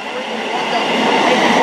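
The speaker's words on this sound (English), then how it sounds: "EMT HST, roaring right through Luton Airport Parkway" An East Midlands Trains HST roars straight through Luton Airport Parkway station, a loud, steady, close rush of rail noise that builds slightly over the moment.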